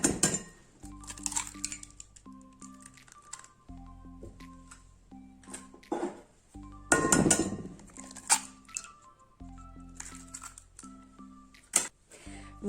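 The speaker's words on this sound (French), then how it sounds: "il vous faudra 2 œufs que vous allez venir casser dans un saladier" Two eggs cracked into a mixing bowl while making cupcake batter, heard as sharp clinks and knocks against the bowl with a few short taps. A low steady hum runs underneath, and there is no talking.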